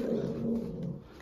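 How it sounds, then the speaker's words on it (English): A dog on a television indoors gives a short growling, whimpering vocalisation, a brief burst about a second long with no talk over it. "Oh, there's a dog on the television."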